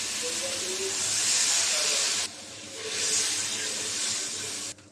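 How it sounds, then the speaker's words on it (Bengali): Broth hits a pan of frying spiced masala with chili and coriander powder, bursting into a loud, broad hissing sizzle that dips briefly, then surges again before cutting off. "এখন ঝোল দিয়ে দিব।"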